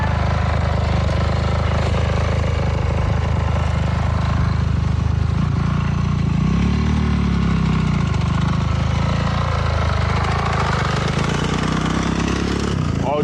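Dirt bike engine running steadily on a ride out with kids, a loud mid-pitched drone that swells and dips as the rider works through gears, with voices talking over it.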